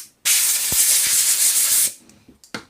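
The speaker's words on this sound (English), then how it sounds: "Blow some air through it." A loud, steady blast of compressed air hisses through a Yamaha Kodiak carburetor jet for over a second, then cuts off, followed by a few short clicks and puffs.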